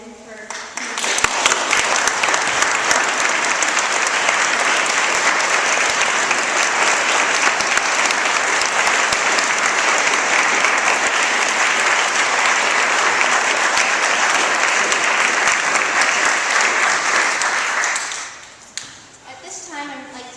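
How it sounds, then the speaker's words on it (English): An audience at a literature awards ceremony breaks into a long, loud, sustained round of applause that holds steady for many seconds before cutting off abruptly, followed by a voice speaking. "we'll give you one more round of applause"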